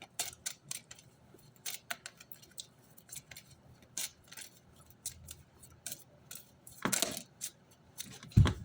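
Tarot cards shuffled by hand, giving a steady run of crisp, papery flicks and riffles, close and fairly quiet, with a louder burst of riffling near the end and no talking.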